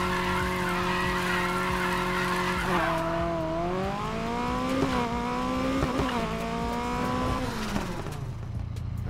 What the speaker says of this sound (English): you're going to squeal your tires in third gear, and right when you let off, you're going to bump it back down into second